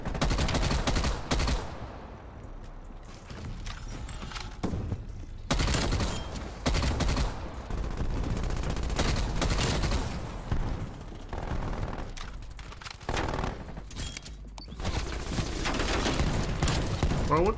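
Dense bursts of automatic gunfire from a Black Ops Cold War match hammer loudly, near-constant volleys broken by brief pauses, with a voice faintly underneath at times.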